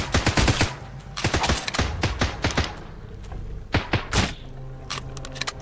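Gunfire in the video game Sunkenland, loud, close rapid bursts and single shots in irregular clusters, with quieter thumps between them.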